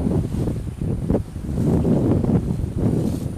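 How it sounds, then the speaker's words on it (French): Strong wind buffets the microphone in continuous gusty rumbles, a rough roaring noise out on open water near Sardinia with no voices. "il y a toujours un bon vent"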